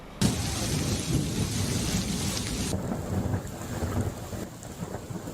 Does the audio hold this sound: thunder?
yes